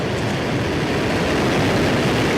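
A SpaceX Falcon 1 rocket lifts off with a loud, steady, broadband roar and deep rumble that fills the whole moment without a break.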